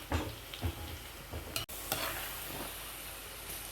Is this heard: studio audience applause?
no